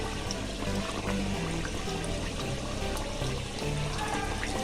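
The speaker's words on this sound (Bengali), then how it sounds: "তেলটা গরম হয়ে গেছে, এই খাজাটা দিয়ে দিলাম প্রথমে।" Khaja pastry frying slowly in hot oil over low heat, giving a steady, dense sizzle that runs unbroken from start to finish with no voices.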